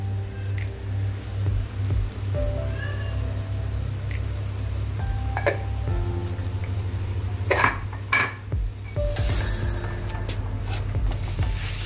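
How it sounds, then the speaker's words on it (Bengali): Minced chicken is stirred and fried in a pan, with a low steady hum from the stove or a fan, occasional metal spatula scrapes and clinks against the pan, and faint sizzling. "কিমাটা দিয়ে খুব ভালোভাবে মিশিয়ে এটা আরো একটু কষবো ভালো করে।"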